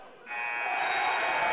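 A long, loud electronic buzzer sounding at a high school basketball game between Oak Hill Academy and La Lumiere School, steady and unbroken once it starts.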